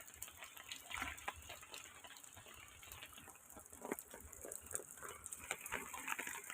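Floodwater flows and gushes along, a faint, uneven splashing rush with irregular bursts and surges that continues throughout.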